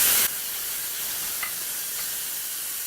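Roughly chopped tomato hits a hot pan with red chili and curry leaves, setting off a steady, close sizzle and hiss that continues alone without talk.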